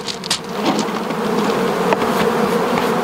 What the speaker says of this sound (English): So any bees remaining on the frames that have no brood on it, I'm just shaking and swiping into the new hive.